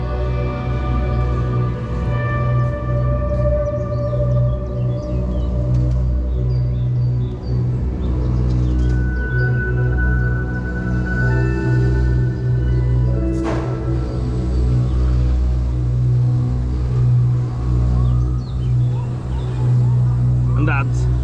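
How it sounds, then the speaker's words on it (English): The Ride to Happiness roller coaster at Plopsaland De Panne, ridden from the back row: a steady loud rumble of wheels on track with rising mechanical whine and wind, riders occasionally exclaiming over it. "Oh, it's just a fantastic coaster."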